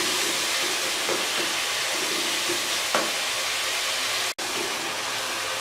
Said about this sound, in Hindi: अभी मसाले की हम तकरीबन 1 से 2 मिनट बुनाई करेंगे अच्छे तरीके से, ताकि हमारे मसाले अच्छे तरीके से भुन जाएं।